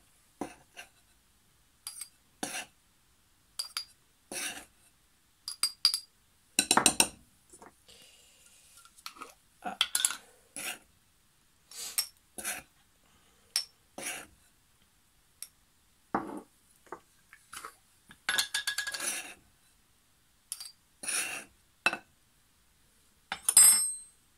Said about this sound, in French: on prend la petite cuillère et on remplit les petits pots